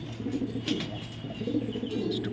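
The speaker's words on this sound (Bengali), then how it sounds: "খুবই চমৎকার এক জোড়া কবুতর" A pair of black European pigeons coo softly in a loft, low repeated throaty calls with faint wing rustles, steady and close, with no talking.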